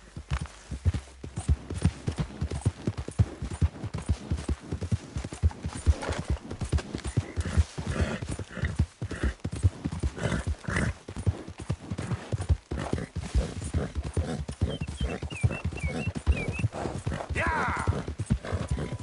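Hooves of a ridden horse clip-clop in a brisk, regular rhythm, close and clear, with a brief faint call near the end and little talk.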